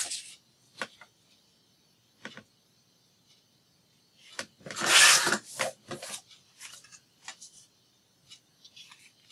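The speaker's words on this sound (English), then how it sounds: "it's me using my trimmer" A paper trimmer slicing sheets of vintage collage paper, heard as a few sharp, close cutting strokes and short scrapes with quiet gaps between them, with no talking.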